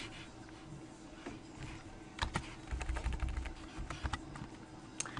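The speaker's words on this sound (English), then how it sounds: "I'm going to type in Red Sox." Computer keyboard keys tapped in short irregular bursts, quiet and close, with a denser flurry of clicks in the middle and no talking.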